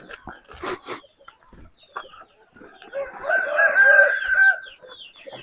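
A rooster crows once in the yard of a Fatsa Yalıköy home, a loud, drawn-out call that swells and fades near the end, after a few clucks and brief shuffling noises.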